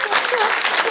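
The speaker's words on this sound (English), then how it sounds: "Everyone, let's just give a round of applause." A round of applause from the audience at a book talk, brief and fairly loud, with a few voices mixing into the clapping.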